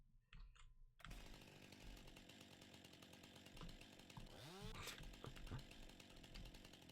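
A chainsaw cuts a log in Farming Simulator 19, its engine buzzing loudly and continuously after a short quiet start, with a rising whine midway and speech over it.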